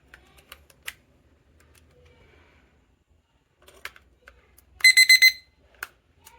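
A rapid burst of four high electronic beeps from a digital study timer as a battery is inserted, after scattered small clicks and handling noises, fairly close and loud.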